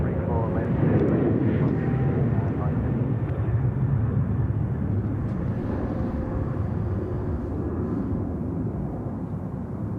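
Airliners taking off from Sydney Airport, including a Singapore Airlines A380 and a Qantas 787, give a loud, sustained jet engine roar that slowly fades.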